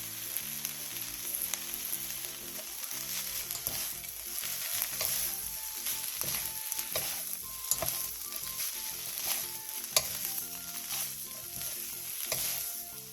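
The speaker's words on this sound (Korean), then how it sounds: "다진 마늘 반스푼, 매실액 1스푼, 들기름 1스푼, 통깨를 넣고 1분에서 2분 정도 볶아 마무리해주세요." Chwi namul stir-fried with minced garlic, plum syrup, perilla oil and sesame seeds, a steady close sizzle with intermittent clicks of stirring utensils against the pan, soft music underneath and no talking.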